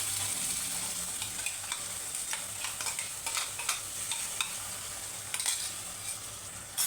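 Ground masala paste frying in hot oil while being stirred in a pan: a steady, close sizzle with light scraping and clicking from the spoon, and no talking.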